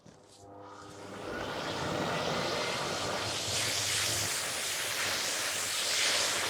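A CamVac dust extractor roars up through a cyclone dust separator on a 40-litre blue container, building quickly from a low hum to a loud, steady rushing whine that holds throughout.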